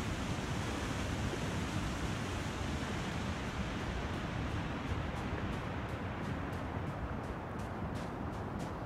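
Water waves in the video game The Long Dark give a steady, faint, broadband wash of surf that stays even throughout, with no talking over it.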